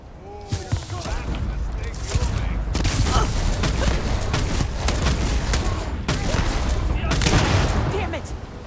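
Heavy sci-fi gunfire from a firefight in the space game Starfield, dense bursts and booming shots running continuously and loud, with voices shouting over the shooting.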